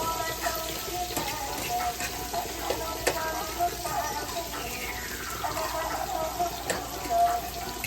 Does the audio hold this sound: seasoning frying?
yes